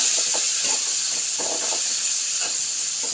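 Tomatoes sautéing in a pan after onions, giving a steady close hiss of sizzling oil with faint scraping stirs; no talking.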